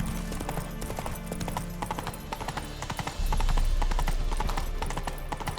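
Horse hooves clip-clop steadily through a stretch of The Witcher 3 video game, a brisk repeating rhythm of sharp strikes over a constant low background rumble that swells louder midway.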